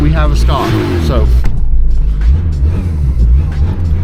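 An old car bought for £500, just started after some effort, idles with a steady low engine rumble, while someone talks over the first half.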